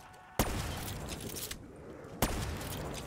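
Burst-fire SMG shots in the Black Ops 3 Zombies game: two loud, sharp bursts, the second about two seconds after the first, each trailing into dense, noisy rattle and echo.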